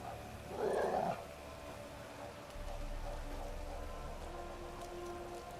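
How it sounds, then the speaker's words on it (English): A dog in The Witcher 3: Wild Hunt gives a single short bark early on, set against a steady bed of rain-like game ambience. "쟤는 착한 개구나. 착한 개가 있었네."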